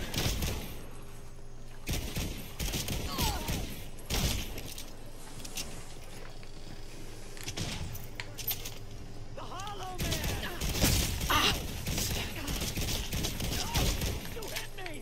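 Gunfire from a pistol and other weapons in the video game Redfall, repeated rapid shots and bursts running through the whole stretch at moderate loudness, with game sounds and voices over them.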